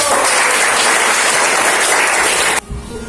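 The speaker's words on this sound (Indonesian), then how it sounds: "Tepuk tangan dulu." A classroom of students claps together in a dense, loud burst of applause for about two and a half seconds, then it stops abruptly.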